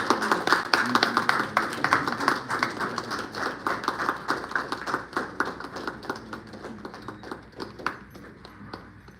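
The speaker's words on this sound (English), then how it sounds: "Please have a big round of applause as we officially launch this." At a CSR report launch event, a smallish audience claps in distinct, sparse hand claps that thin out and fade toward the end.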